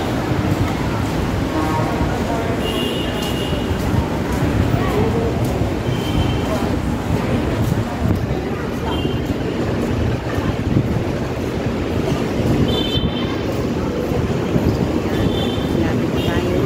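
Steady, loud rumble of an MRT metro train in motion, heard from inside the carriage, with continuous wheel and track noise, occasional faint high squeals and murmured voices beneath.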